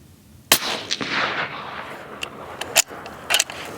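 Several rifle shots from a Ruger Precision Rifle fitted with a TriggerTech trigger crack sharply at a range, one loud report followed by quieter distant shots spaced irregularly.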